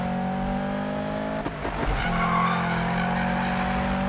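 A Corvette races through a bend in Need for Speed, engine humming steadily before a burst of tire squeal and skidding near the middle, then the motor drones on loudly and alone.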